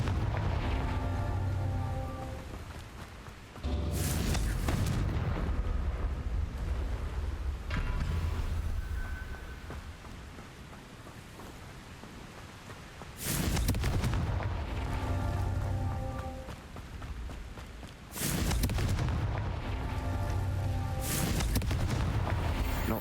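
Fire spell explosions in the Hogwarts Legacy video game, a series of loud, booming blasts at intervals of several seconds, each followed by a rumbling fiery tail and crackle amid continuous game ambience and music.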